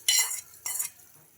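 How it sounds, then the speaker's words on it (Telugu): Hot tempering is tipped into chutney and stirred in, giving two short, close hissing, scraping bursts about half a second apart, then fading out with no talking. "ఆ పోపును కూడా వేసుకుంటున్నా"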